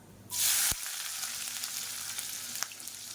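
Sliced onions drop into hot oil with mustard, fennel, cinnamon and cloves, setting off a loud burst of sizzling that settles into a steady, close frying hiss with a single tap of a utensil.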